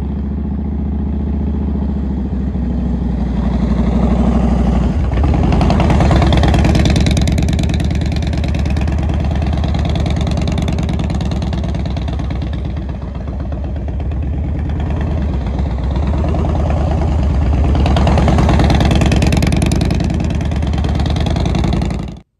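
Motorcycle ridden around a parking lot for slow-speed practice, its engine a loud, steady rumble that rises and falls gently as it circles and turns, close by with no talking.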